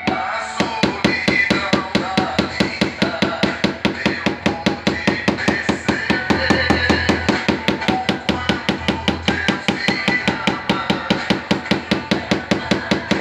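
Steady, rapid hammer taps on a car's side body panel during dent repair repeat in an even rhythm throughout, close and continuous with no voices.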